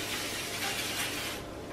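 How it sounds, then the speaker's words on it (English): Disinfectant spray misted steadily over a household surface during cleaning, a close, continuous hiss lasting under two seconds that tapers off at the end. "I'm going to use my disinfectant spray and just spray the whole area"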